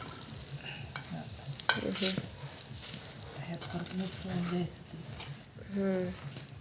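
Heated oil is poured into a homemade chutney for a black masala, then stirred, giving a quiet sizzle and scraping spoon strokes under a person talking nearby.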